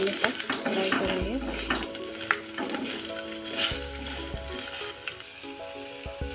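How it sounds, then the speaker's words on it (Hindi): Garlic and chillies frying in hot oil in a pan for sweet tamarind chutney, with a loud continuous sizzle and intermittent stirring scrapes and clinks, close and without speech. "लहसुन डालेंगे, मिर्ची डालेंगे, इसे अच्छे से हम लाल होने तक फ्राई करेंगे"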